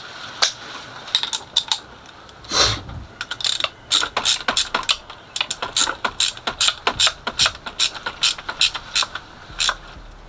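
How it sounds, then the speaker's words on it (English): A ratchet tightens bolts on an aluminum EGR block-off plate fitted to an Olds 307 engine, producing close, crisp bursts of rapid clicking that start and stop repeatedly in quick, uneven strokes. "I don't want to tighten it too bad to where the bolts break, so I'm just gonna tighten it like that."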